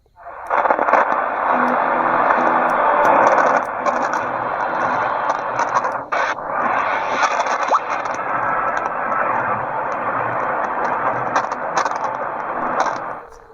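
Static hiss from a Sony EX5MK2 radio as it is switched to upper sync, a dense steady crackling wash running nearly continuously, with a brief dip partway through before the noise resumes at a similar level.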